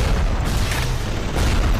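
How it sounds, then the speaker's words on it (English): A frag grenade detonates in the Bioshock shooter, a loud, dense boom of broadband rumble that fills the short moment, with no voices over it. "Frag grenade."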